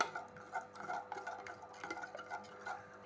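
Soft, repeated scraping and clinking of a spoon mixing salt into keerai kadaiyal, a mashed greens dish, in a bowl, quiet and irregular with no voices.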